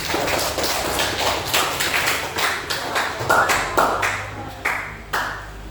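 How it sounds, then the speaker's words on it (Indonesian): Students at an Indonesian madrasah guidance-counseling class clap together in a patterned rhythm: crisp, loud bursts in clusters, repeating at a steady pace for several seconds. "Oke, tepuk tangan buat kita semua."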